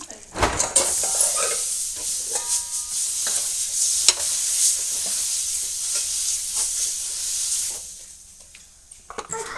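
Water with salt dabbed onto a hot griddle for amboli gives a steady close hiss and sizzle, with scattered clinks of utensils and stirring throughout.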